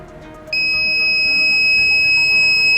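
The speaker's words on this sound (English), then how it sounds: "buzzer will be on" Electronic buzzer of an office and hotel room call bell system switching on abruptly, a loud continuous high-pitched tone that holds steadily for the rest of the clip.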